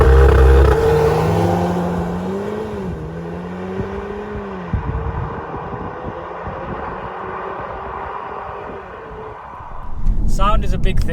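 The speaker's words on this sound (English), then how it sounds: "And that was a strong launch." A 300 hp VW T-Roc R launches and accelerates hard: a loud engine note climbs through the gears in rising sweeps, then settles into road and wind noise before another surge near the end. Voices talk inside the car.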